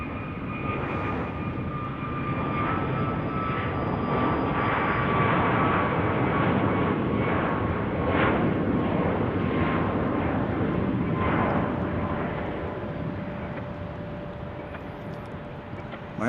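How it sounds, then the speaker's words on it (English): A Southwest Airlines jet roars down the runway at full takeoff power at Salt Lake City airport, a sustained loud engine rush with whining tones that swells and then slowly fades as it climbs away. "Southwest Airlines. Rolling. Max attack."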